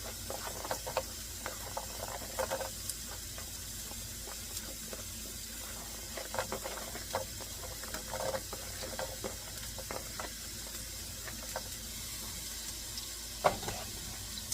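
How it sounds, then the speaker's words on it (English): Carrots frying in oil in a pan give a steady, fairly quiet sizzling hiss, dotted with small crackles and pops throughout. "First, I am going to go in with the carrots and let them start cooking and get coated in the oil"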